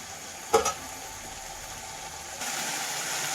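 Spice paste frying in oil is stirred, with one sharp clink of a utensil against the pan over a continuous sizzle that swells near the end.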